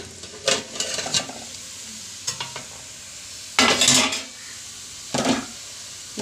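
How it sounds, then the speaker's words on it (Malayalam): Sprouted green gram stir-fry is stirred in a pan with a few scraping, rustling strokes in separate bursts, close and fairly loud, with no talk over them. "നമുക്കൊന്ന് ഇളക്കി കൊടുക്കാം."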